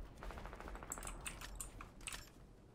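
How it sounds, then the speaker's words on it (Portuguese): Gunfire in a video game sounds as faint, distant rapid bursts of shots clustered in the middle of an otherwise quiet passage. "Tô vendo tiro aqui em cima, mano."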